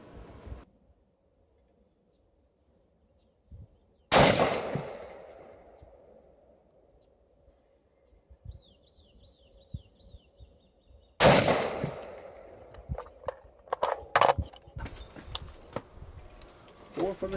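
A SIG 556 rifle fires sharp, loud shots, two single cracks several seconds apart followed by a quicker cluster of shots toward the end.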